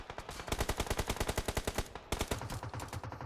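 Rapid bursts of automatic gunfire in the battle royale game PUBG Mobile, during a competitive esports match, crack out in a dense rhythmic string of loud shots with a brief pause before another burst.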